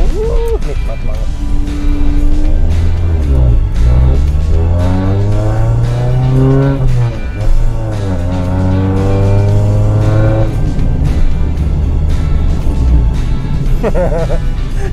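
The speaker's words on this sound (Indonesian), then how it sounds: "ketika lo mau ngedenger karakter asli si muffler ini, si knalpot ini, ambil RPM tinggi, geber" Car exhaust revving hard to high RPM several times on a classic Honda Civic Nouvo or Mercedes E124, engine pitch sweeping up and down, loud and close, with people talking over it.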